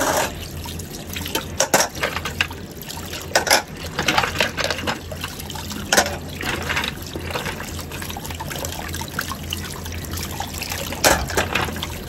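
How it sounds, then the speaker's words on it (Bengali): Puja utensils are washed under running tap water, a steady close splashing trickle running throughout with intermittent clinks and louder splashes as items are handled. "তো চলো বাসন টাসন ধুয়ে দিই।"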